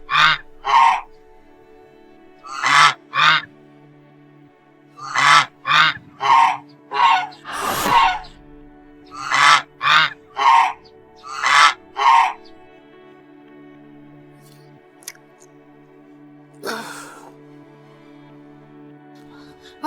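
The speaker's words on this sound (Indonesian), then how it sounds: "Angsa!" A goose honks loudly over and over in short, nasal bursts, some in quick pairs and runs, with quiet gaps between them and one last honk near the end.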